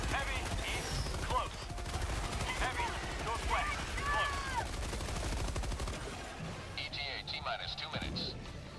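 Sustained automatic fire from an MG-43 machine gun in the Helldivers 2 video game, a dense rattling stream of rapid shots running for several seconds amid battle noise, tapering near the end, with voices talking over it.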